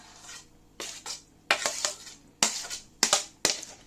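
Cooled couscous stirred into a creamy yogurt dessert: a run of close, separate spoon clinks and scrapes against a bowl, quiet between strokes, without talk.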